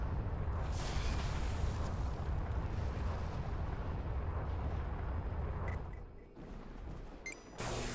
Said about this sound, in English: Some missiles going on here.